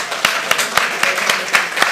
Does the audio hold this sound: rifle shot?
no